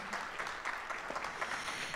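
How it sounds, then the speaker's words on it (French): Audience applause at an evening diploma ceremony for Eliane Picot, thanking her for attending; a steady, moderately dense clapping across the whole stretch, somewhat distant and fairly quiet. "Je pense qu'on peut l'applaudir et la remercier pour sa présence ce soir"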